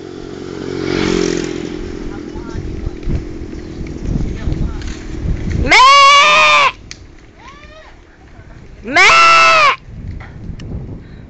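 Goat bleating loudly and close in two long wavering calls, with talk and a motorbike engine running underneath during an outdoor ride.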